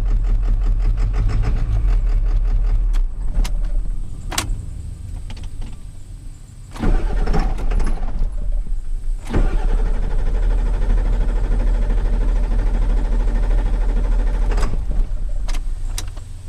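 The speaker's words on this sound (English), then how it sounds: "I just went to start the truck back up and it's running weird again." A truck engine sits idling rough and uneven, a loud low rumble with knocking irregularity, briefly dipping before surging back to a steady running drone, with sharp clicks scattered throughout.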